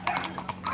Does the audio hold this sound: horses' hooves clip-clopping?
yes